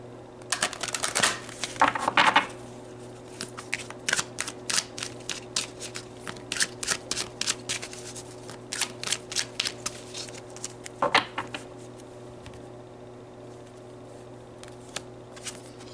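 Tarot cards being shuffled and drawn close up, with a quick flurry of riffling followed by a long run of soft, irregular snaps and taps as individual cards are handled and laid down, with no talk.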